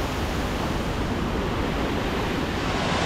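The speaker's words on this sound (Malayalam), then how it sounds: "നമ്മളിപ്പോ ചീയപ്പാറ വെള്ളച്ചാട്ടത്തിലാണ്" Cheeyappara waterfall rushes in a thick, continuous wash of water noise, loud and unbroken, with no voices over it.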